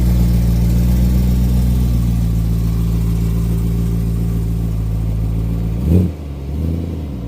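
A Vortech-supercharged BMW M3 idles with a loud, steady, deep drone close by, then gives one short blip of the throttle near the end before settling back to idle.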